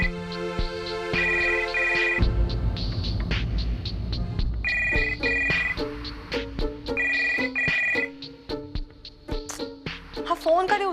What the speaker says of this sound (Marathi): अगं बेल वाजतेय सतत आणि हा फोन नाही उचलते.